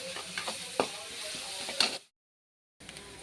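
Onions sizzle steadily in hot oil in a pan for a bottle gourd curry, with occasional stirring scrapes, before the sound cuts out briefly and then resumes.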